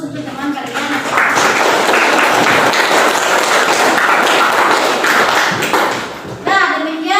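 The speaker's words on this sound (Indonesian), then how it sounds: "kita berikan aplaus untuk teman kalian" A classroom of children applauding their classmates, with sustained loud clapping from many hands and children's voices mixed in, ending in a short pause before a voice speaks.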